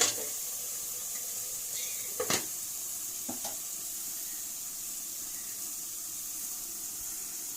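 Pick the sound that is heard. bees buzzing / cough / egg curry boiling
egg curry boiling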